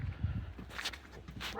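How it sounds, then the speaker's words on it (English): A dog barks and yips nearby in an outdoor garden with tropical plants such as Musa basjoo, several short barks in quick succession, fairly loud and without speech. "Apologies for the dog barking"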